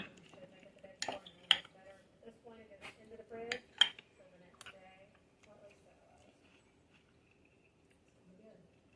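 A metal spoon scrapes and clinks against a bowl while scooping homemade potato salad with relish during Fourth of July food prep. Several sharp clinks come close together, then quieter scraping follows.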